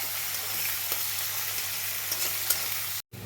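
Chopped onion frying in hot oil over a tempering of whole spices, a dense continuous close sizzle with light stirring, briefly cut off near the end before resuming.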